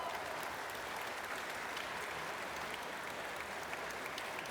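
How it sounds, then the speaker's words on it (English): Steady applause from a crowd at a cosplay costume contest at gamescom 2017 fills the whole stretch, a dense even patter of clapping without voices. "Big round of applause for that."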